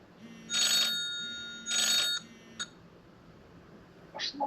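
Grandpa's telephone rings indoors with two long electronic ring bursts, then a short blip and a final partial ring, moderately loud against a quiet room.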